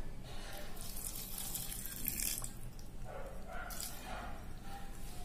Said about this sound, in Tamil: தண்ணி விட்டுக்கிறேன்